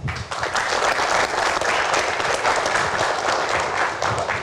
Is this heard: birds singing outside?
no